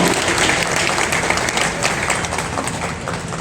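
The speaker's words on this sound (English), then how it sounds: "let's clap once again, ladies and gentlemen, for Eastern Brook" A live awards ceremony crowd applauds a best female artist winner, dense loud clapping filling the room, steady and sustained with a slight fade near the end.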